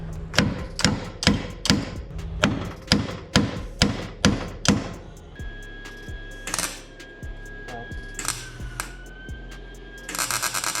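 Metal being hammered flat inside a Ford Fox Body engine bay, a run of about a dozen sharp, evenly spaced ringing blows, then a few scattered taps and clanks close by.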